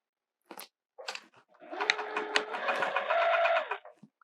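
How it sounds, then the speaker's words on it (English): Sewing machine stitching quilting vinyl: a few short bursts give way to a sustained mechanical whirring run, close and moderately quiet. "All right, let's sew this in."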